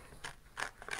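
Scissors cut through folded origami paper in three short crisp snips, close and quiet, with no talking.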